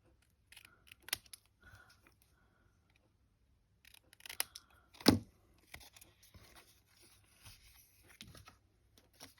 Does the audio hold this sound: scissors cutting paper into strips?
yes